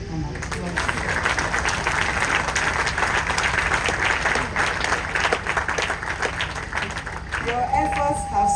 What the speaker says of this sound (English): You don't think they deserve an applause?